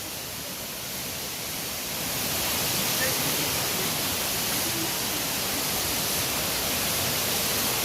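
Tangke Falls rushes in a steady broadband roar of falling water that swells slightly after the first couple of seconds and then holds at a constant, moderate level.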